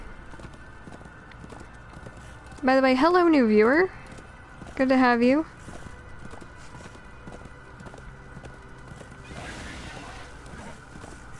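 A horse's hooves clip-clop in a steady rhythm in Darksiders 2, joined by two loud, drawn-out whinnies, while someone talks over the gameplay.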